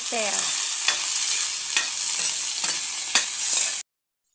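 Pansit-pansitan leaves fry in a pan with onion, a loud steady sizzle close up, punctuated by scraping stirs of a utensil every second or so before cutting off abruptly.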